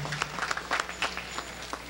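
Audience at an African World Festival gathering clapping, a thin scattering of individual claps with uneven rhythm, fairly faint and sparse rather than a full ovation.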